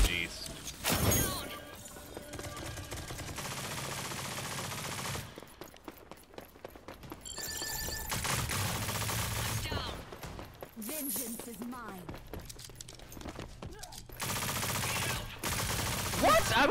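Bursts of SMG fire from enemies in an online shooter game, rapid loud volleys repeating in clusters with short gaps, while a player talks over the action.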